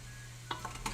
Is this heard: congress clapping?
no